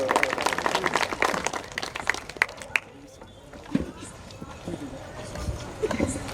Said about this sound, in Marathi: दादांसाठी जोरदार टाळ्या द्या.